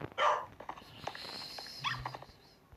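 A single sharp dog bark in Minecraft rings out, followed by softer whimpering and rustling noises, fairly quiet and slightly synthetic-sounding.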